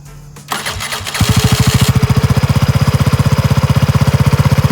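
A BlackHawk LowBoy 3 quad paramotor engine cranks and catches after a short pull, then settles into a loud, close, fast rhythmic idle thump.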